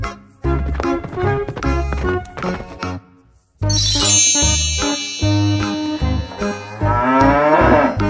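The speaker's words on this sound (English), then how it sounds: "Cow." A cow moos loudly over a jaunty musical backing with chimes and tinkles, the lowing drawn out after a brief pause and topped by sparkling jingle effects near the end; no talking.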